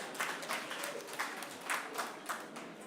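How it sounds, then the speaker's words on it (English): Scattered applause from a conference audience at an Africa Day session after a $40 million pledge, heard as soft, distant clapping with a few louder bursts, no voices over it. "A big round of applause"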